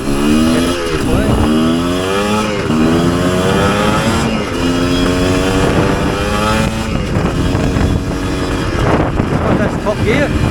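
A Chinese dirt bike engine revs and accelerates through the gears, loud and close, with rising and falling pitch sweeps and heavy wind buffeting the microphone.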